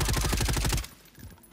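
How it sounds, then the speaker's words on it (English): Rapid automatic gunfire in the video game Call of Duty Warzone Rebirth, a loud dense burst of shots lasting under a second, then quieter scattered in-game noise. "he's getting shot in the back"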